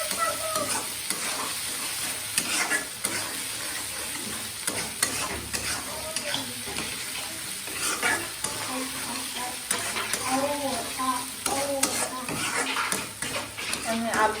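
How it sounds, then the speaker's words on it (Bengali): Cubed potatoes frying with onion and spices in a pan for a vegetarian potato and spinach curry, heard as continuous sizzle with frequent scraping and stirring clatter close up, with a voice talking faintly at times. "আমি আলুটাকে পেঁয়াজ আর মশলাগুলোর সাথে একটু ভালো করে কষিয়ে নেব।"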